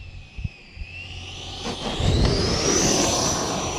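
An RC electric ducted-fan jet on landing approach at about quarter throttle, a whining turbine tone sliding upward as it passes, building into a louder steady rushing hiss after a few faint thumps.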